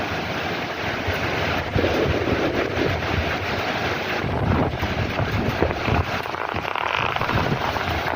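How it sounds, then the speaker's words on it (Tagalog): Strong typhoon wind roars continuously against the microphone, with a heavy rushing wash of driving rain and gusts building and easing, heard from a fifth-floor apartment in Macau. "malakas na rin talagang hangin at ang ulan dire-diretso na rin"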